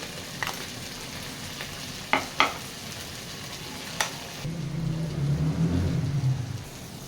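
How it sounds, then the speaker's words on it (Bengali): Pointed gourd (potol) fries in foaming mustard oil, a constant crackling sizzle with a few sharp utensil clacks, and then a louder, fuller bubbling rush in the final seconds. "প্রথমে পটলগুলো ভেজে নিচ্ছি"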